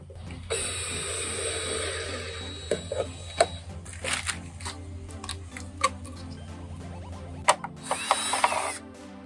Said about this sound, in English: Before I put my drill driver away, I do want to put some holes in these plastic containers that were for food